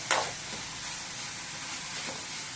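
Sliced onions with salt sautéing in a pan for a Tamil-style egg stir-fry, a steady soft sizzle with a brief brighter burst of frying near the start, no voices.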